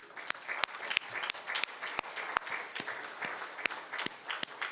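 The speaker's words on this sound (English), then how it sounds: "If I can ask you to give them a round of applause." Modest applause at a Metro Council meeting, fairly quiet, with a few sharp individual claps standing out over a softer, steady patter of hands.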